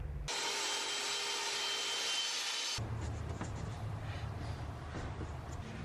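A power saw cuts through 1/4 inch plywood during a Ford Transit Connect van build, a loud steady whine for about three seconds, then rougher rasping and rubbing of wood.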